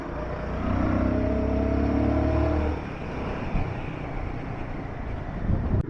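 A Royal Enfield Guerrilla 450 motorcycle being ridden in the city, its exhaust a steady low drone with strong wind rush, easing off partway through as the engine note drops.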